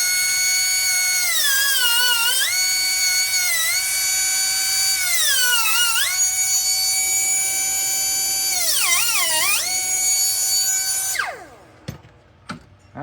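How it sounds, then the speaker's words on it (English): High-speed rotary cutting blade grinding a Clinton Clipper Warncliff knife, a loud whining tone that dips and recovers as the blade bites, then spins down to a stop followed by a few clicks. "This is actually a cutting blade, and that gives the nice side action."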